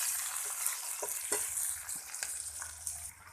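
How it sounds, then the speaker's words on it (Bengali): Onions browning in hot oil in a home kitchen pan, a steady close sizzle broken by a few soft stirring scrapes and clicks, with no talk. "এবার পেঁয়াজটা আমি লাল করে নেব।"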